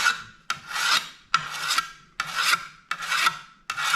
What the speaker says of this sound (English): So this, just a scythe whetstone.